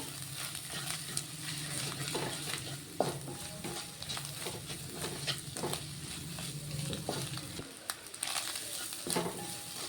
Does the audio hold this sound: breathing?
no